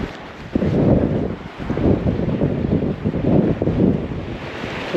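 Gusty wind buffets the microphone on a seawall by the sea during tuna jigging, a loud broadband roar rising and falling in steady surges with no voices.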